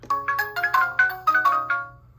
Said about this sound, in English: push the doorbell button to see if the base station rings